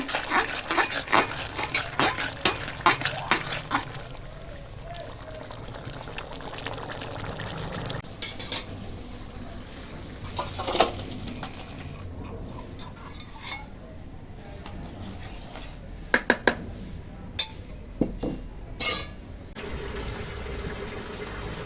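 Rohu fish-head and bottle gourd curry is poured from a pot with repeated metallic scrapes and clinks of a ladle against the vessel, irregular and close, over steady background noise.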